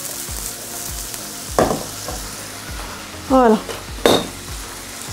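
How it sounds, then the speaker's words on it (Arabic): Sausages and onion fry in a very hot pan with a continuous crackling sizzle. Repeated metallic scrapes and clinks come from the stirring, and a brief burst of louder sizzling rises near the end. A voice speaks briefly. "حرك البصله باش ما تحرقش لانها مقله سخونه بزاف"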